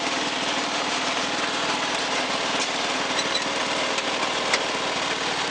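The engine of a 1986 Toro 11-32 lawn tractor runs continuously nearby, a loud, steady, buzzing drone with a fast mechanical pulse and no change in pitch, and nobody talks.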